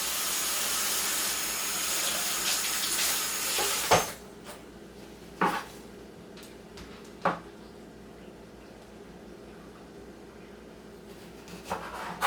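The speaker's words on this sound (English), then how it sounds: "I'm gonna rinse the tomatoes off." Tomatoes rinsed under running water, a steady loud hissing stream that cuts off abruptly after about four seconds, followed by a few faint knocks and clicks in a quiet kitchen.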